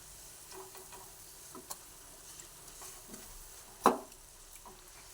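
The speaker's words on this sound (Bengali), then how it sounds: "এই তেলের মধ্যে এক এক করে পেঁয়াজ আর ক্যাপসিকাম দিয়ে সব ভেজে নেব" Onion and capsicum frying in oil give a faint, low sizzle with scattered soft clicks and one sharper tap from stirring, with no voices.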